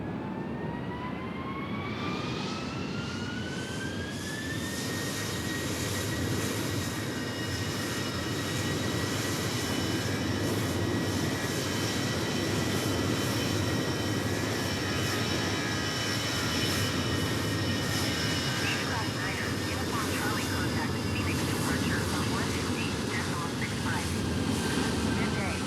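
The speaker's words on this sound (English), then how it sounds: "We have an aircraft on short final for 7 right. We have an aircraft taking off on 7 left." In Microsoft Flight Simulator 2020, airliners take off and land at Phoenix Sky Harbor International Airport, giving a steady, loud jet-engine roar throughout with a whine that climbs in pitch over the first few seconds and then holds.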